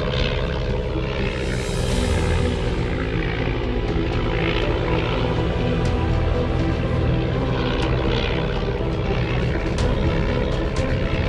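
Propeller aircraft engine drone from the flight game Flying Tigers: Shadows Over China, a loud, continuous throbbing roar held steady throughout with light game effects over it.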